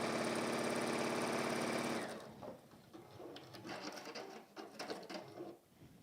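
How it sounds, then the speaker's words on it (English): A sewing machine top stitches a fabric mug carry, a fast, loud, even motor hum for about two seconds before it stops, followed by quieter handling and rustling. "we're just going to top stitch down the other end, down the folded end"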